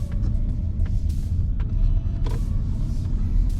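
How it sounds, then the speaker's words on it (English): Steady low road rumble inside a Mazda MX-30 electric SUV on the move, with a few faint clicks and light interior sounds over an even, well-insulated cabin hum and no voices. "so driving the MX-30"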